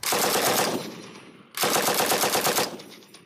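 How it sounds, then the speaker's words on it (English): Automatic machine gun fire in two long sustained bursts of rapid shots, loud and close, separated by a brief gap. "The police say the first shots were automatic gunfire from the move house"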